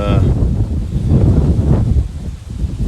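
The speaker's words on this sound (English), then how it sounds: "sorry, I know it's really windy." Strong outdoor wind roars and rumbles close to the microphone in uneven surges, easing slightly toward the end.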